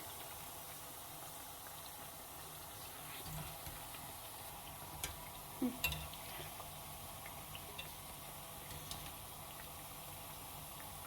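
Mandazi dough frying in hot oil gives a faint, steady sizzling hiss, broken by a few soft clicks and a brief louder scrape around the middle as the pieces are turned. No one speaks.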